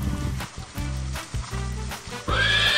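A horse neighs loudly in several stuttering bursts, a close, harsh whinny that rises into a higher, strained squeal at the end.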